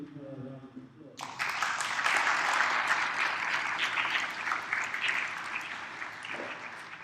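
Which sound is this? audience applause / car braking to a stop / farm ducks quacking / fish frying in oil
audience applause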